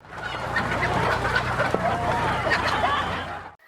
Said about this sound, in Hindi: जैसा आप देख रहे हो ये मेरे पास प्योर देसी नस्ल के मुर्गे हैं।